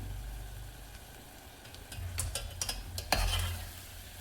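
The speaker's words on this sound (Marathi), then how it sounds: "आणि सगळं मिक्स करून घ्यायचं।" A spoon scraping and stirring onion with spices in oil over low heat, a faint background sizzle with a cluster of sharp clinks and scrapes against the pan partway through.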